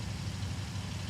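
Vehicle engine in Arma Reforger running steadily without full throttle, a low, even idling-style rumble close by with no talk over it.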